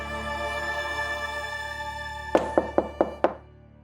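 Five sharp knocks land on a door in quick, even succession over a sustained musical drone, fairly close and distinct.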